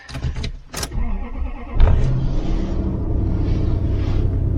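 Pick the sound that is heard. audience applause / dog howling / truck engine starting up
truck engine starting up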